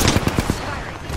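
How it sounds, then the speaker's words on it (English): Rapid video game gunfire as the player character comes under attack, a quick burst of about five sharp shots over roughly half a second, loud and close, then a quieter tail. "Being shot at."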